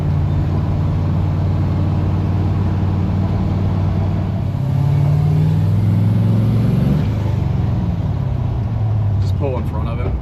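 A 1971 Plymouth Duster on a test drive, its engine droning steadily with a rise in revs midway, heard from inside the car under a continuous road rumble.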